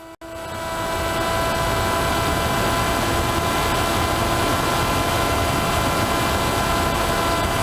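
Steady, continuous whine of a small propeller-driven Icon A5 radio-controlled model plane carrying a GoPro, buzzing overhead, constant in pitch and level with no voices.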